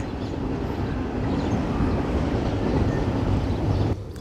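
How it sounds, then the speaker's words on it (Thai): A TPI cement freight train rumbles through Sung Noen railway station in Nakhon Ratchasima, a steady low roar of rolling wagons with some wind buffeting, ending abruptly near the close. "เป็นขบวนรถสินค้าปูนซีเมนต์นะครับผมของบริษัท TPI"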